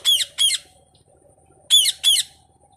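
Four sharp, harsh parrot squawks in two quick pairs, loud and close, with a pause between the pairs and quiet room noise underneath.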